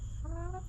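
A chicken gives a single short, rising cluck close by, a brief bird call over a low background rumble.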